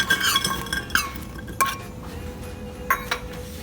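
Dried fruits such as raisins are tipped into a large pot, giving a few sharp clinks and taps of metal and glass at irregular moments against a quiet kitchen background.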